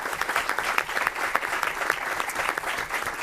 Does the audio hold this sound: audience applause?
yes